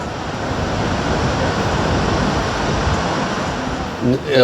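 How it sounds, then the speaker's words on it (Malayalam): A steady, broad rush of falling water from Gullfoss, a two-tiered waterfall in Iceland, roars continuously, close and loud, with a brief disturbance at the very end. "ഇത് 2 ലെയറിലുള്ള ഒരു വാട്ടർഫാൾസാണ്"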